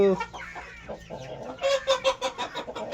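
Several young chickens, hens and cockerels, cluck and chatter close by, a busy run of short calls that grows livelier in the second half, with no talking.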